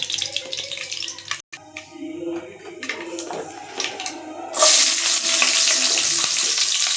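Shallots being stirred in a pan for curry leaf kuzhambu give scraping clatter and light sizzling at first, then a loud, steady frying hiss bursts in as they hit the hot oil, heard close with no talk.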